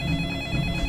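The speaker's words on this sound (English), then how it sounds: "and the phone rings" A telephone rings in a short, steady electronic trill that stays loud and close throughout, with no one talking.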